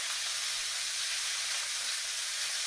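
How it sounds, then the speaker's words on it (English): Beef shanks sear in a hot pan with a steady, even sizzling hiss that runs unbroken and fairly close throughout. "we're going to sear the outside of these pieces"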